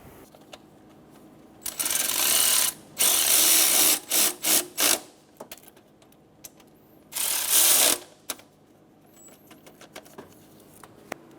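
A ratchet snugs down AC compressor bolts on a 2007-2012 Nissan Altima, quick clicking bursts in several separate runs, close and crisp, with quieter workshop background between them.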